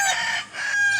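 A Possum-line gamefowl rooster crows once, close and loud, its strained call rising and holding across one second with no other sounds.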